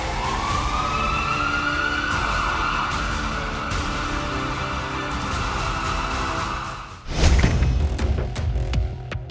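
An Uttar Pradesh ambulance siren sounds loud and steady with a long wailing tone, then a heavy vehicle rumble and a burst of noise as it passes close by.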